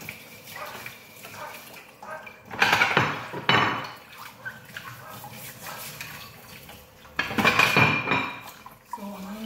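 Dishes and cutlery clatter in a workplace kitchen in Cyprus before going into a dishwasher, with two loud bursts of clinking and scraping separated by quieter handling and faint running water.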